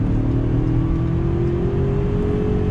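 A 2019 Ford Ranger's engine with its 10-speed transmission, heard from inside the cabin where extra engine sound is piped in, a smooth, steady mid-pitched drone with a slowly rising tone, loud and close.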